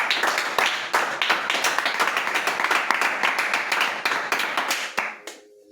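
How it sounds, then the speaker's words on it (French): A church congregation claps and applauds loudly during a French-language worship teaching, with dense, steady rhythmic clapping filling the space for several seconds before it quickly fades out at the end. "Acclame la parole de Dieu. Acclame."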